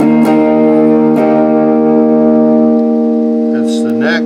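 A Squier Metal Strat electric guitar rings out heavily distorted chords with long sustain, each strike decaying slowly, and a brief spoken voice near the end.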